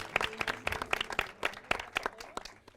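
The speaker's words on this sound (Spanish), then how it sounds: "Un fuerte aplauso para ella." Hand clapping from a university talk audience, a burst of sharp uneven claps repeating through the moment, moderately loud and fairly close, with no voices over it.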